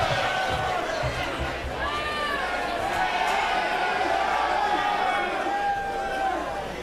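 A packed sold-out wrestling crowd in Chicago roars and cheers at an Against All Odds 2024 show, a steady wall of crowd noise with swelling chants, heard under a commentator talking.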